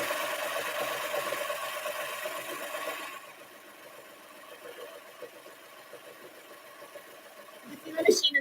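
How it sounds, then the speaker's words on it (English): A serger overlock machine stitches along a fabric edge, a dense steady mechanical whir that runs loud for about three seconds, then drops to a quieter hum, with a sharp clatter near the end. "I just need to serge this edge right here."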